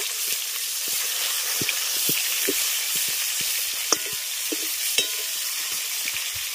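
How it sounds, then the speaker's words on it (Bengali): A piece of fish from a home pond fries in hot oil, giving a loud, close, steady sizzle dotted with sharp crackling pops, with no voices. "আর একটা টুকরো এখানে ভেজে দিচ্ছি"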